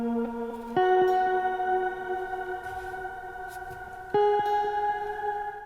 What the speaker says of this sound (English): you can see it's got this really long kind of frozen reverb in the background to keep it held out a long time